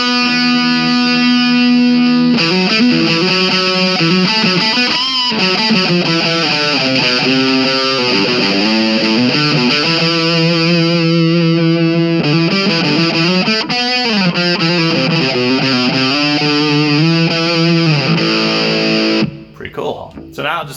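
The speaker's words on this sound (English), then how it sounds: "So you hear there how it got fatter and dirtier, but we didn't lose the high end." Distorted electric guitar run through an Audiostorm Grand Classic, a fat, dirty, sustained tone with bright top end, played as continuous notes and chords for about twenty seconds before cutting off abruptly.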